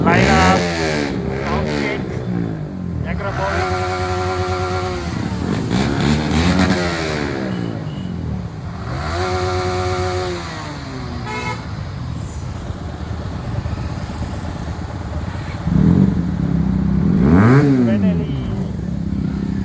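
A group of motorcycles on a bikers' group ride rev their engines together, loud rising and falling roars overlapping for the whole stretch, with voices mixed in among the engines.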